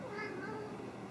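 A house cat gives a single drawn-out meow, close and clear, with no talking over it.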